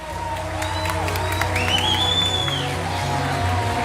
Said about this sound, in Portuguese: Você pode dar um glória a Deus e aplaudir o nome do Senhor?